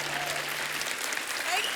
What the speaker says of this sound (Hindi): जोरदार तालियां मनीषा कोइराला जी के लिए।